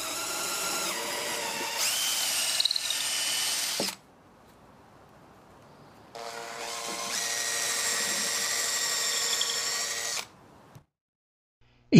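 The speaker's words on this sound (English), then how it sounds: "A hole is drilled through the lid and attached block." Two long bursts of a high-pitched power drill whining steadily as it drills through a plastic yogurt container lid and attached block, separated by a pause with faint rustling, then a brief knock at the end.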